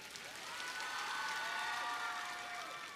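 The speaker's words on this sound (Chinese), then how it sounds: "也要再次响起热情的掌声" An audience applauds at a televised Chinese singing competition stage show, a steady, dense wash of clapping that holds at an even level throughout, with faint tonal music or voices beneath it.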